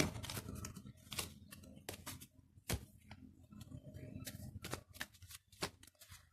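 Tarot cards are shuffled for a reading, heard as rapid, close riffles and flicks in quick irregular bursts, fairly quiet overall.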